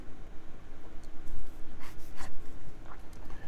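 An OASO retractable fountain pen with an extra fine steel nib scratching across paper, soft close strokes in quick short bursts under a steady background hiss.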